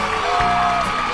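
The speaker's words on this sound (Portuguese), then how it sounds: "O público reconhece o esforço e aplaude." Crowd at a horse competition cheering and whooping loudly in a steady, dense roar of voices and applause, close and continuous with no talk over it.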